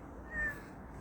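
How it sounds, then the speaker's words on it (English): A single short meow rises faintly from a group of cats lurking around parked cars outdoors at morning feeding time, heard against steady low background noise. "a whole bunch of cats that are just waiting, lurking around the cars"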